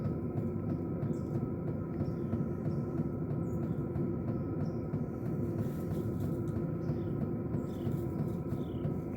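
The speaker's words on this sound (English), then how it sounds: "that noise you're hearing in the background is my diesel heater" A diesel heater runs inside an off-grid houseboat as a steady, continuous low rumbling drone with a constant hum, unbroken and fairly close throughout, with no talk.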